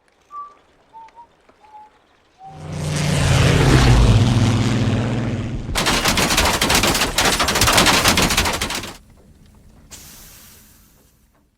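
A Royal Air Force fighter plane roars in and strafes with sustained machine-gun fire in a film scene: a loud engine rush, then several seconds of rapid, dense gunfire bursts that cut off abruptly and leave a quieter tail.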